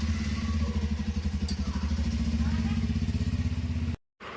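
A motorcycle pulls away nearby, its engine chugging in a fast, even pulse at close range before the sound cuts off abruptly near the end.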